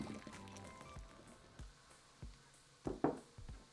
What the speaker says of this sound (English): By now the pasta should be ready, so we're going to drain it in a colander